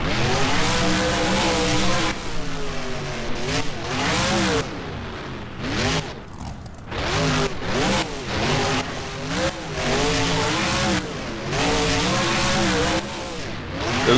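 A monster truck in the BeamNG video game spins a big donut at an Arlington freestyle event. The engine revs loudly and rises and falls in repeated sweeps, with tire noise throughout.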